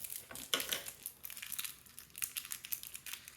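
A small plastic package of miniature craft ice is cut open, giving continuous close crinkling and rustling of the packaging with short snips.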